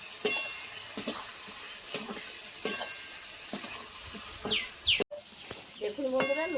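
Taro stolons and a fish head stirred in a frying pan with a spatula, producing a regular series of loud scraping strokes about once a second over a continuous sizzle, close up, with brief bird-like chirps in the background.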